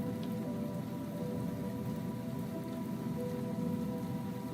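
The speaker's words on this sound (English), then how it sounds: "the background music that's playing. It has thunder and rain in it, right?" Rain pours steadily as a dense, even hiss throughout, part of background music in a livestream of first-person-shooter game development in Unity; no thunder clap stands out.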